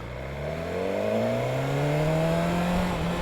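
A 2022 BMW S1000R motorcycle revs while being ridden, its engine note climbing steadily in pitch with rising harmonics, loud and close over continuous wind and road roar.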